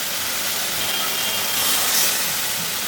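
Water poured into hot fried chili spice paste for a home curry sets off a loud, continuous steamy hiss that holds steady and swells slightly partway through, with no talking.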